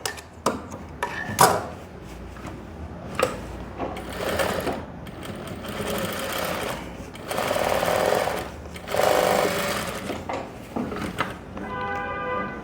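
A sewing machine stitching a seam on Korean-style pants, running in several loud bursts of a few seconds each with short pauses between them, plus handling clicks and knocks.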